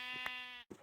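A sheep in the video game Minecraft gives a short, nasal, buzzy bleat, then a second brief one after a tiny gap. Both are quiet and close.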